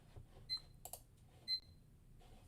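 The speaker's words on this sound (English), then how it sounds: "Oh, there goes my alarm." An alarm goes off faintly in a quiet room, a few short, repeated electronic beeps spaced about a second apart against soft background noise.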